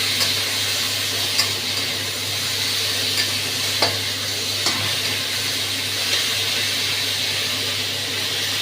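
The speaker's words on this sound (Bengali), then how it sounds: "পেঁয়াজ, টমেটো, সজনে ডাঁটা ভালো করে কষছে।" Onion, tomato and drumsticks frying in a pan, a loud steady sizzle with occasional clinks and scrapes of a spatula stirring, close and continuous without talk.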